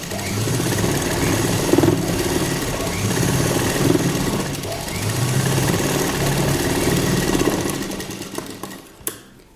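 A sewing machine runs steadily while stitching elastic onto fabric. The motor hums continuously for several seconds with slight rises and dips in pace, close and fairly loud, and stops near the end.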